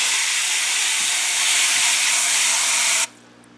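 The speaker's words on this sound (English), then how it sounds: "just to clean the bowl out, I'll give it another spray." A steady hissing spray of water, loud and close, rinsing out a bowl used for harvesting whiteworms, running continuously for about three seconds before cutting off abruptly.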